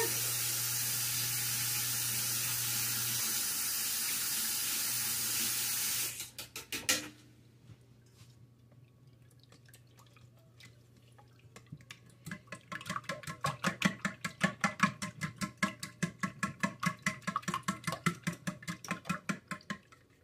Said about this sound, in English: Now we are going to whisk this